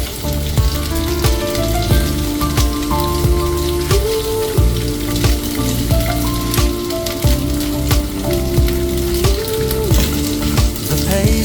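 Coffee-marinated chicken pieces coated in ginger, garlic, chili and corn flour fry in hot oil with a steady, dense crackle, heard beneath continuous music with a melodic line throughout.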